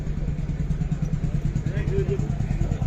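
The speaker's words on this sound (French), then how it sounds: "R21 2 litres turbo. Une sortie d'échappement qui est démoniaque." A Renault 21 2-litre turbo at a car gathering in Villemur runs with a steady, throbbing low engine and exhaust rumble, close by, while people talk over it throughout.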